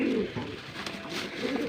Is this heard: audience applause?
no